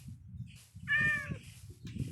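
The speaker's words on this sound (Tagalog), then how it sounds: "Ang daming pusa dito" A cat meows once in a video game, a clear rising-and-falling tone over a low rumble of game noise, standing alone without talk.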